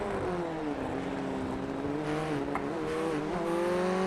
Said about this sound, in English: can hear that car sputtering right as he comes out of the final turn